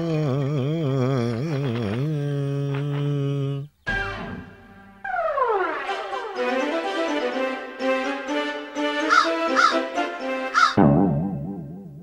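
A crow in an animated story caws in long, wavering, drawn-out calls, loud and close, with a brief break midway before the calling resumes more intensely.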